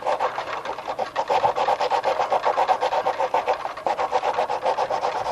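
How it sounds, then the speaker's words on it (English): The end of a model airplane push rod, stiffened with CA glue, is sanded by hand close up with a steady, fast back-and-forth rasping rhythm. "A little sanding and then a couple extra coats of CA will make this nice business-like end."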